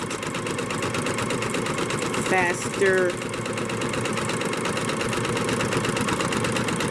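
A sewing machine runs at a fast, steady clip with a continuous droning hum, while a brief voice-like sound rises over it midway.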